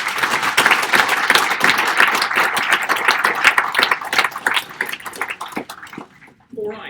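A conference audience at a diabetes technology panel claps in steady, dense applause for several seconds, loud and close, thinning out and fading near the end.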